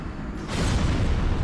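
A boss demon's explosion attack in Dark Souls Remastered, a deep rumbling blast that swells suddenly and holds as a dense, loud roar to the end.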